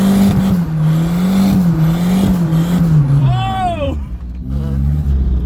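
A Volvo 240 engine revs hard in a loud, sustained roar, then a falling whine sweeps down as the head gasket lets go, and a voice briefly exclaims.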